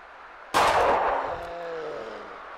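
A single loud gunshot rings out in the horror video game Pancake House, a sharp close blast that decays into a long ringing tail.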